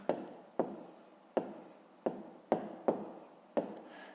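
Pen or pencil writing out a math calculation on paper, a series of about eight sharp scratchy strokes in an uneven rhythm, close and clear with no talk.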